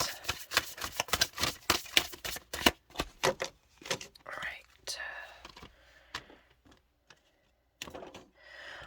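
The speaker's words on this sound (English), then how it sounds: "one more shuffle they want" Tarot cards are shuffled in rapid, crisp riffling bursts close up, followed by softer card handling and a few quiet taps, with whispering faintly underneath.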